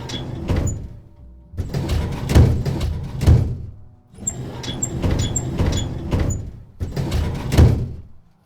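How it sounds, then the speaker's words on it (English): A drawer sliding open and shut in the detective adventure game Tesla Effect: A Tex Murphy Adventure, four rattling scraping slides in a row, loud and close with short pauses between, no voices. "That's a drawer."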